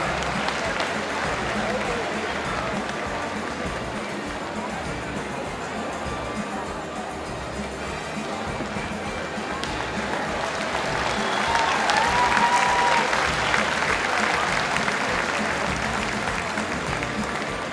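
Spectators at a studbook stallion inspection applaud as a horse is presented, a steady wash of clapping across the hall that swells louder partway through, with a voice and crowd murmur underneath.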